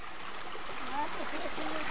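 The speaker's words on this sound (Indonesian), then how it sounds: "Nah, ini ada air terjunnya, teman-teman." A river stream near a waterfall rushes steadily with a broad, hissing flow that is loud and continuous. Someone speaks faintly over the water.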